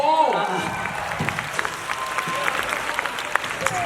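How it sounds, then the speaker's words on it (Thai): A crowd at a JUN.K fan meeting breaks into loud applause with some cheering, a brief tonal voice at the start and sustained dense clapping beneath. "ขอเสียงปรบมือดังๆอีกสักครั้งหนึ่งนะครับ"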